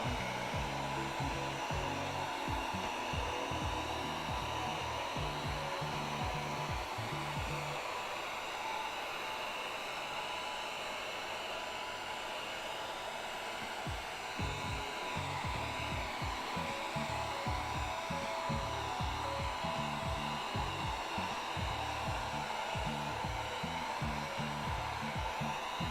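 A heat gun warming cosplay armor parts during live crafting runs with a constant loud airy roar, plus faint low thumps and handling noise underneath, no talking.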